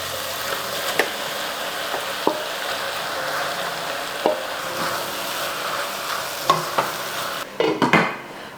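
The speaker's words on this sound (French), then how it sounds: "On va verser maintenant les tomates par-dessus." Tomatoes are poured over vegetables frying in a pan for a fish dish, producing a continuous soft sizzle with occasional knocks and stirring clatters, ending in a louder burst of pouring and spattering.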